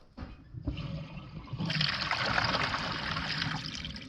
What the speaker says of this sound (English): Can you flush again?